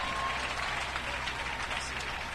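Members of a congregation at a thanksgiving church service clap together in a dense, even burst of applause, brief and moderately loud, with no voices rising above it.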